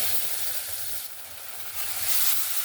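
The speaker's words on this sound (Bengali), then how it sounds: "দিয়ে ভালো করে কষিয়ে নেব যতক্ষণ না টমেটো থেকে কাঁচা গন্ধটা চলে যায়" Ginger-garlic paste and a ground large tomato fry in a hot pan for capsicum masala gravy, a loud dense sizzle that swells and fades as the mixture is stirred.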